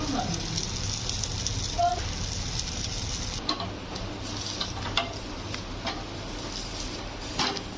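Uttapam sizzling steadily on a hot pan, a continuous broadband frying hiss with a few soft scrapes and taps as it is lifted, flipped and oiled.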